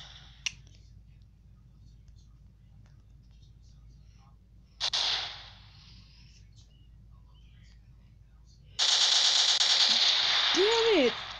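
Guns fire in the shooter game Standoff 2: a sharp crack early on, another burst midway with a ringing tail, then a long dense run of rapid shots near the end, over a quiet hum.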